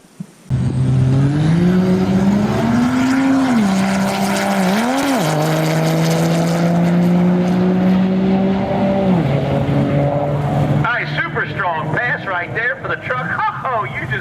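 A loud 6.7 Cummins diesel race truck engine roars and revs continuously, pitch climbing and dipping through gear changes, with a rough, rattling idle and clatter near the end, pulling into a garage.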